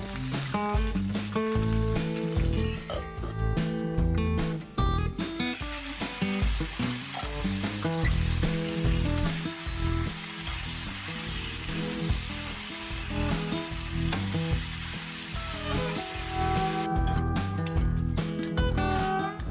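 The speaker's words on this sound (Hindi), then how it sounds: "फटाफट में सब कुछ डालिए और उसे भून लीजिए।" Continuous loud sizzling and frying of spices in a pan with clinks and stirring, steady throughout with no talking.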